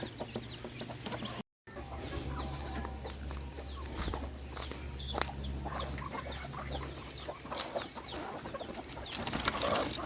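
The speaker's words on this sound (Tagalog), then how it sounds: "yan ang mga manok" Native chickens cluck in a steady chorus, with soft clucks and occasional bird chirps over a low farmyard hum, no talking.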